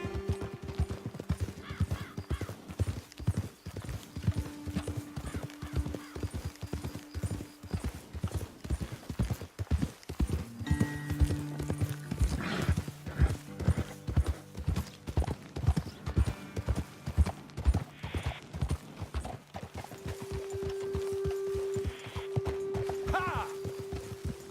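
Horses ride along in Red Dead Redemption 2, their hooves clip-clopping in a steady, continuous rhythm close by, with speech over the hoofbeats, sustained music tones and occasional crow caws in the background.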